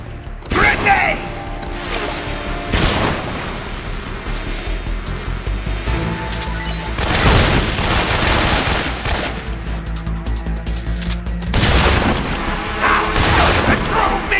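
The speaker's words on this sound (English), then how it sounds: "Grenade!" Grenade blasts and gunfire in Metal Gear Solid 3, loud booming explosions every few seconds over continuous rattling fire and mechanical noise, with a voice shouting briefly.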